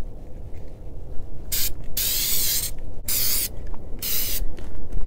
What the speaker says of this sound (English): I'm going to go ahead and get this spray painted and let that dry